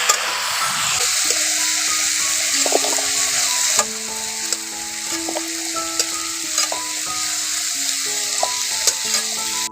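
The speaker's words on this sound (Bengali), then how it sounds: "এখন কুমড়োটাকে একটু হালকা করে ভেজে নিয়ে একটু তুলে নিচ্ছি" Pumpkin pieces fry in hot oil with a steady, loud sizzle throughout, broken by frequent sharp clinks and scrapes of a spatula stirring against the pan.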